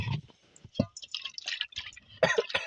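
Salty seawater sloshes and drips in a bucket, with scattered close splashes and trickles in short irregular bursts.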